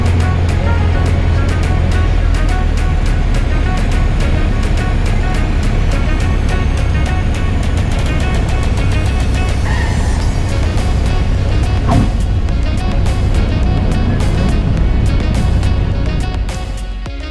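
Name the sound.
small airplane touching down on runway at night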